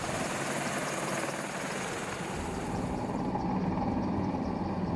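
US and German attack helicopters take off together in a mass departure, a loud, continuous rotor and engine roar filling the air without a break.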